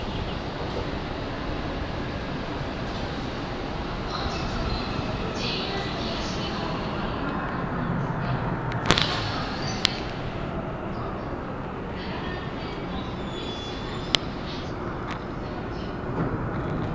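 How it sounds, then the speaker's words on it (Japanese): A JR E231 or E233 series commuter train runs at a platform at Yokohama Station as a broad, fairly faint rumble. A few sharp clicks and squeals sound over steady station ambience and a distant announcement. "電車が到着しております。"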